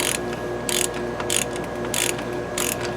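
A hand ratchet tightens brake bolts during a brake install, clicking in five quick bursts of rapid pawl ticks at a steady rhythm over a constant low hum.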